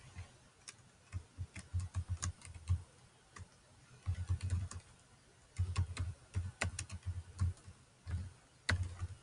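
Quiet, close keyboard typing in short bursts of rapid key taps, with brief pauses between runs and no voices.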